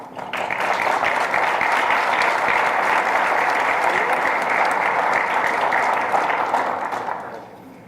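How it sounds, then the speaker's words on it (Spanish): A large audience gives warm, dense applause at a 15th-anniversary celebration of a party headquarters in Mexico City, welcoming a foundation director to the stage. The clapping rises quickly, holds steady and loud for several seconds, then fades out near the end. "Recibamos con un caluroso aplauso"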